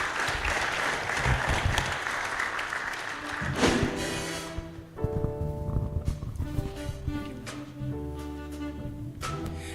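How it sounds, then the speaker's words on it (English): Loud crowd applause at a launch event for funded training programmes rolls for about four seconds, then gives way to sustained tonal sounds with a few lingering claps. "Let's clap for her."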